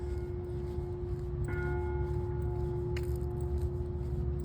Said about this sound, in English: Those bells are from the Academy building.